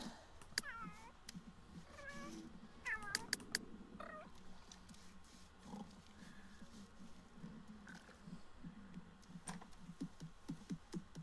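A cat in the life-simulation game The Sims 3 meows several times in short, rising calls, fairly soft and spaced irregularly over a quiet background with light patter.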